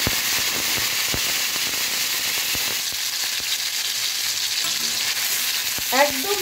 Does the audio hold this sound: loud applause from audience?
no